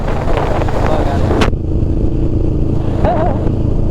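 A Honda Rebel 500 motorcycle carries a passenger, its engine holding a steady, close drone under constant wind rush, with a brief sharp burst near the middle.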